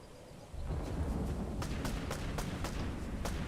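Several sharp gunshot cracks in the video game Fortnite pop over a steady low rumble, irregularly spaced, fairly distant, with no talking.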